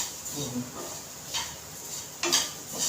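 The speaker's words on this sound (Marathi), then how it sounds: "आता मी याच्यामध्ये साखर घालते" Sugar poured onto grated fresh coconut drying in a pan for coconut vadi, giving soft granular rustles and a couple of light clinks against the pan, moderately close.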